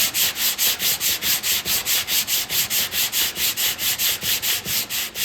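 A C10 pickup tailgate panel being block sanded by hand, steady rhythmic back-and-forth rasping strokes about four per second, close and loud, with no talking.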